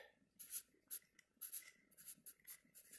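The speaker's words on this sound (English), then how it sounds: "so we will write down on my concrete" A marker or pencil writing on concrete, a series of short scratchy strokes in an irregular rhythm, close and faint.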